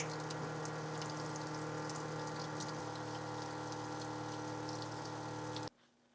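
Water running steadily from a tap while laser-cut acrylic is washed, a continuous faint rushing and splashing that cuts off abruptly near the end.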